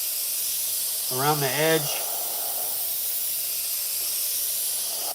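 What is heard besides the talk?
airbrush spraying paint for shading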